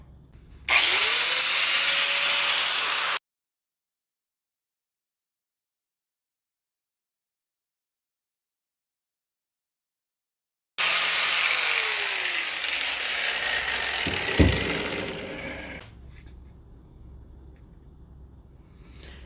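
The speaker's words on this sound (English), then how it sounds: "Go very lightly with the grinder. You can always just grind off a little more as you need to." A bench grinder sharpens a steel lawn mower blade in two loud, harsh bursts of grinding, separated by a long silent gap, with a clunk near the end of the second burst before it winds down.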